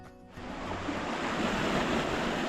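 Surf washes continuously onto a coastal beach, a broad steady roar building after a quieter start and holding strong and close.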